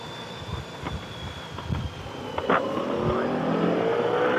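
A rally car roars past a first-gear bend on a Welsh rally stage, its engine swelling to a loud peak mid-pass before fading, with faint spectator voices and open-air rumble around it.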